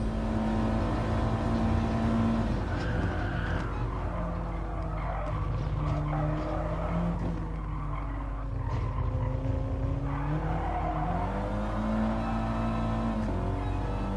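An Audi TT Gr4 race car in the GT Sport video game accelerates at Autodrome Lago Maggiore, with steady loud engine drone and rising revs blended with tire squeal through a U-turn, continuous and close.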